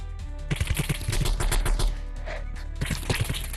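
A grenade blast in the animal battle game Animal Rivals, heard as a burst of sharp gunfire-like cracks and booming hits that fill the clip, loud and close, with game effects continuing after.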